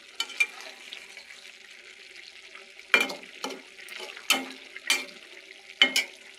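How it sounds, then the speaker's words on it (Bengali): Rohu fish pieces fry in spiced masala under a soft steady sizzle, broken by about half a dozen sharp scraping strokes of a spatula stirring at irregular intervals, heard up close. "এখন মাছগুলো দিয়ে ভালোভাবে কষিয়ে নেব।"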